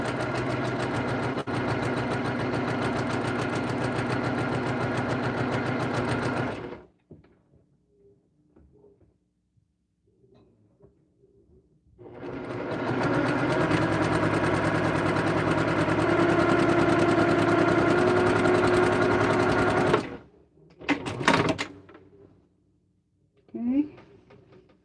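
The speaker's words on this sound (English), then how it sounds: "Go ahead and keep sewing these." Sewing machine stitching quilt panels for a French door panel wall hanging, a close steady mechanical whir in two long runs separated by quiet pauses, with a voice talking at times.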